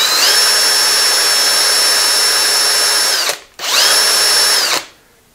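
A power drill marking holes in a drill press rebuild whines loudly and steadily up close, stops briefly, then runs again for a shorter burst before spinning down.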